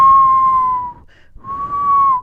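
A voice imitates the whistling of the wind with two long, steady whistled tones separated by a short gap, close and clear with no other sound.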